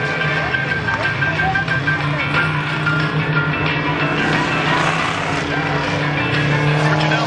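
Race cars roaring around Langley Speedway's oval during a Day of Destruction event, a loud continuous engine drone with tire noise and a commentator talking over it.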